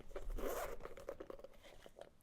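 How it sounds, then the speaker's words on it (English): The zipper on a Cuyana cosmetic pouch is drawn open in one quick, close, rasping pull that fades into a few softer ticks as it slows near the end. "the zipper goes all the way down on the Cuyana one"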